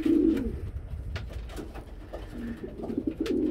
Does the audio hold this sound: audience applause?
no